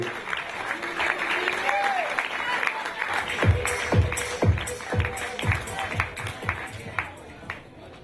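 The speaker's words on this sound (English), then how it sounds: "So please give him a round of applause anyway." Applause from the audience at an under-11 football club presentation evening, a steady wash of clapping with a few sharper claps and background crowd chatter mixed in.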